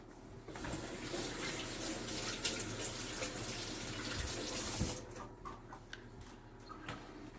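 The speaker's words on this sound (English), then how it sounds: "I'm going to wash my hands." A kitchen tap runs steadily for about five seconds while hands are washed, a close, even gush of water that then stops, leaving faint drips and small handling sounds.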